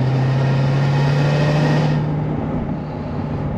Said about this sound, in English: It sounds so weird with the exhaust closed. It's like so quiet.